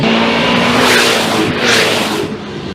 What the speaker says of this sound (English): they did flybys so that you can see and hear the new 1064 horsepower twin-turbo V8